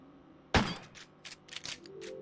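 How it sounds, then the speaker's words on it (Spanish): A single sharp, loud gunshot bursts out from the video game Crow Country, likely a Magnum, followed by scattered fainter impacts and game noises trailing off. "He pegado dos tiros ahí sin necesidad, pero bueno."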